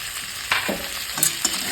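Small chopped tomato pieces are stir-fried in a pan, a close, steady sizzle punctuated by a few sharp scraping strokes of a spatula.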